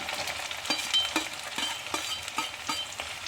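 Small onions and shallots frying in a pan on a fish curry stove, stirred with a spoon: a steady sizzle with repeated scraping strokes at an even rhythm, close and fairly loud, with no voices.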